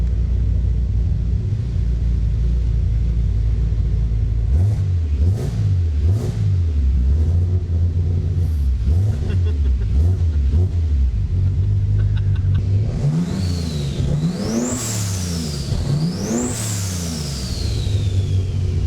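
A turbo V12 engine swapped into a Toyota Cressida rumbles, then revs hard several times to about 5,000 rpm, pitch climbing and falling with a rising whine on top. Loud and close, no voices.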